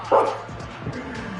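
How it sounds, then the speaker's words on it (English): A single short dog bark or yip in a college football video game featuring the Colorado State Rams, fairly loud and close, then quieter background sound. "Dogs barking on that one"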